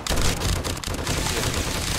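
Rapid gunfire in the zombie survival game 7 Days To Die, a dense, continuous burst of shots that runs loud and unbroken through the moment.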